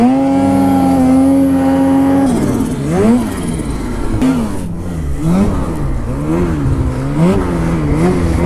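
A Ski-Doo Expert turbo snowmobile engine revs loudly and close by, holding a steady high note before rising and falling in repeated surges over snow.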